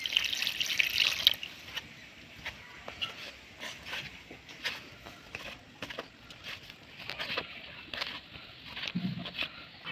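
Flour dough is kneaded by hand with water added bit by bit, making soft, irregular wet squelches and slaps in uneven bursts at close range, with no speech.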